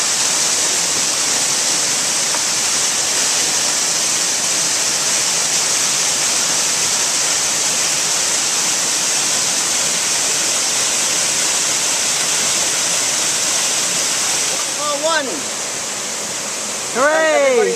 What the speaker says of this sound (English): Well, there is the bottom of the falls.